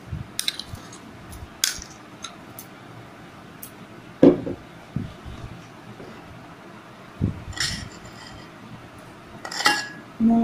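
Spices going into a bowl while preparing steamed hilsa fish: scattered light clinks of dishes and utensils, a few sharper knocks, separated by quiet pauses, with no talk.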